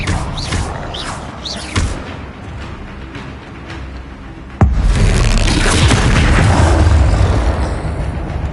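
An Expelliarmus spell is cast in Hogwarts Legacy during spell combat, with a sudden booming impact about halfway through. A dense, loud rumble follows and holds over continuous game effects and earlier whooshing sounds.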